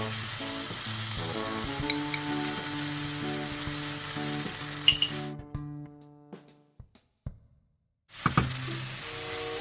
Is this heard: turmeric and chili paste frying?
yes